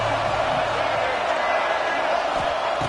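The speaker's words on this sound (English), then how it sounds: "This crowd ready to make its presence known." Stadium crowd noise from the College Football 26 video game: a steady, dense roar of cheering spectators that fills the whole clip at an even level, with no clear individual voices standing out.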